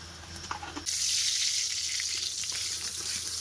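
Panch phoron spices hit hot oil with a sudden loud sizzle, a bright crackling hiss that starts after a few quiet clinks and holds steady to the end.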